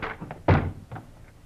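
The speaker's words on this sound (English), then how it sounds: "in a quick movement, they rushed the door to Frank Hadley." A door is rushed open with a heavy wooden thunk in a radio drama sound effect, one loud central impact followed by a softer knock, with a few lighter taps before it.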